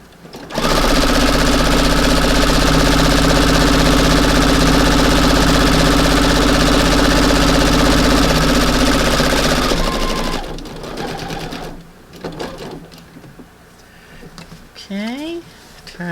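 A sewing machine stitches for a front porch redecorating project in one loud, steady run of rapid mechanical chatter lasting about ten seconds, then stops, leaving quieter handling noises.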